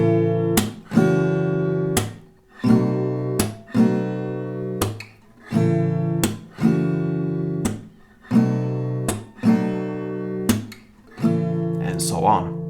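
An acoustic guitar strums a stripped-down version of a song's chord progression, with steady rhythmic strums roughly every second ringing out cleanly with no voice over them.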